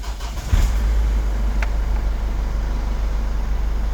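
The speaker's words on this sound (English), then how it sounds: "we're about to start the car here" A car engine cranks and catches about half a second in, then settles into a steady, close rumbling idle that continues to the end.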